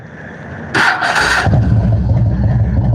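A motorcycle at night eases out of a parking lot. A brief, loud engine burst gives way to a low, steady, gently throttled rumble close by.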